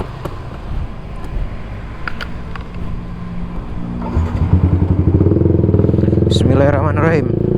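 A Yamaha MX King 150 motorcycle with a UB Bpro racing exhaust idles with clattering pops, then revs up into a louder, rising rasp over the last few seconds. Voices can be heard early on.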